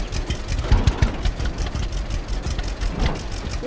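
A tractor engine idles on a farm in a video game, a steady low rumble with faint periodic knocks and bursts, loud and alone without speech.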